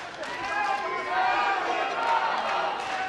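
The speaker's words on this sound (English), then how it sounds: "You hear the crowd starting to chant." Crowd chanting and cheering at a jiu-jitsu match between Royler Gracie and Eddie Bravo, a steady, dense roar of many voices filling the arena at moderate volume throughout.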